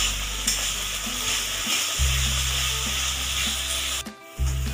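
Gobindobhog rice is stirred in a hot pan over a high gas flame, a loud continuous sizzle carrying repeated scraping strokes that break off briefly before resuming.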